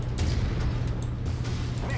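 Rapid autocannon fire from a battle mech in Mechwarrior 5, a dense continuous stream of heavy low booming bursts that stays loud for the whole stretch.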